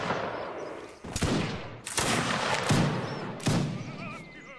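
Booming artillery fire in a Napoleonic Wars battle game, several heavy, sharp blasts a second or so apart, each ringing out over a rumbling battlefield backdrop.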